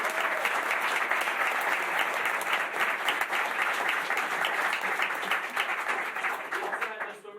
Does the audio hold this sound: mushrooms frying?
no